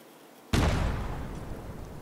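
A detonation effect from the TATAKAI game engine erupts suddenly after a short quiet lead-in: one loud, broadband blast followed by a long rumbling decay that fades slowly.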